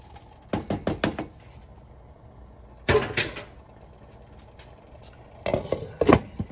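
A soup pot with two cups of rice cooking over medium-low heat gets covered in a kitchen, giving a few clustered metallic clinks and knocks of a lid, with two more clatter bursts later amid quiet room tone.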